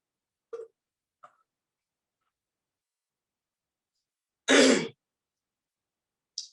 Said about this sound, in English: Open your mouth partially and please proceed with inhale and exhale.